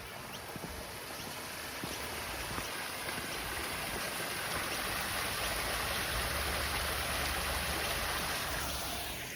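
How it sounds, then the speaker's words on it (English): A small waterfall in a park in Drouin pours continuously, a dense and steady broadband rush heard close and loud with no talking over it. "Also this waterfall bit here."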